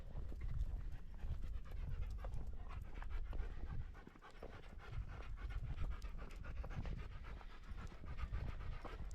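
Dogs pant quickly and rhythmically on a desert walk near Las Cruces, New Mexico. The breathing is close and continuous, with footsteps crunching alongside and a brief softer pause partway through.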